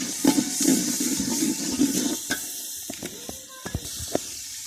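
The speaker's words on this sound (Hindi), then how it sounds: "थोड़ा सा पानी लगा लें।" Water is poured into a hot pan of frying masala for vegetable biryani, giving a broad hiss and sizzle that fades over a few seconds, with scattered clinks of a utensil afterward.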